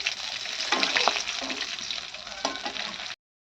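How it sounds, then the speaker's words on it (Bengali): Fish frying in oil in a wok, a loud close continuous sizzle with occasional stirring surges, cutting off abruptly near the end, no speech. "কড়ার তেলের মধ্যে দিলেই তো ভাজা হয়ে যায়।"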